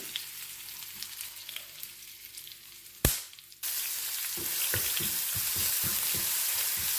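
Ginger garlic paste fries in hot oil with cloves, cinnamon, bay leaf and marathi moggu for egg biryani. A steady sizzle is broken by a sharp burst as the paste hits the pan, then louder frying with stirring scrapes.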